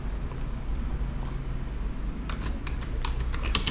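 Typing on a computer keyboard while building a website, starting with a low rumble and then a quick burst of distinct, close keystrokes in the second half, with no speech.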